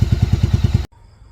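A Yamaha Virago 750 chopper motorcycle engine idles, back to normal after a high-idle fault was fixed, a loud, close, even thumping pulse of about eight beats before it cuts off abruptly into quiet room noise.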